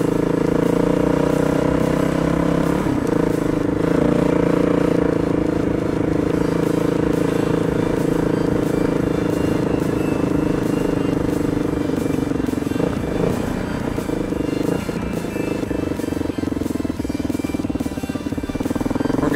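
Two dirt bikes, a Yamaha WR450 and an old Kawasaki KDX200, ride together with a loud, continuous engine drone and rattling clatter from close by, pitch shifting slightly as they go.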